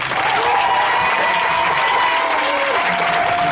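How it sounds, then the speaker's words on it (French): Church congregation applauding and cheering loudly during a Sunday worship service, a dense, steady wash of clapping with voices mixed in, sustained throughout. "Je dis acclame plus fort."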